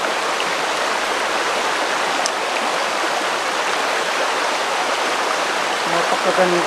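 A river flows steadily by a motorcamping spot in Malico, a broad, constant rushing and hissing of water close by, with faint indistinct voices near the end.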